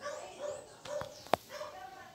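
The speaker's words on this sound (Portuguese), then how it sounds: "Tô escutando barulho de cachorro na rua latino" A dog in the street barks several times at a distance, short sharp yaps spread irregularly, with a louder bark near the middle.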